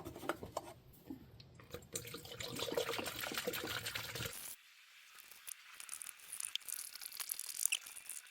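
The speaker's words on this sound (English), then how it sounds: "Now I just have to fill up the coolant." Coolant poured into a 2014 Lexus ES300h in a garage, a soft trickling, dribbling liquid sound that fades and resumes, quiet and close with no talk.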